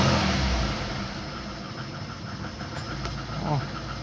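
A VAZ 2115 car engine revs as the throttle is blipped, a steady mid-pitched drone that rises slightly near the end, close by with no talk.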